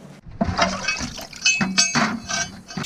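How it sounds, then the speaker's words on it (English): Steel bearded axe head rinsed under hot running water in a sink, a steady splashing flow broken by a few metallic clinks of the head against the basin. "You got to rinse this in hot water and then use dish soap to scrub it"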